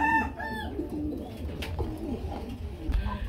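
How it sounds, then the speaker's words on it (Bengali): Racer pigeons, a chocolate-coloured pair, give soft, close cooing calls, with a few rolling coos near the start over a low background hum. "বন্ধুরা আমরা এখানে দেখতে পাচ্ছি আরেক জোড়া রেসার কবুতর চলে আসছে, চকো কালারের মধ্যে।"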